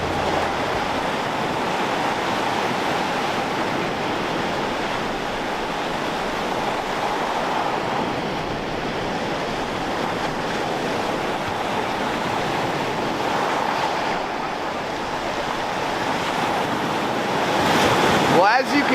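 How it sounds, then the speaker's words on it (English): Big waves crash and churn on the Lake Superior shore during a winter storm, a loud continuous roar of surf mixed with heavy wind buffeting the microphone, building slightly near the end. "Lake Superior is rocking and rolling this morning. There are some giant waves coming in."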